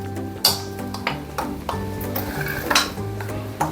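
Ground poppy seeds and fennel being mixed in a bowl, with a spoon scraping and clinking against the bowl in irregular close taps over a low background hum.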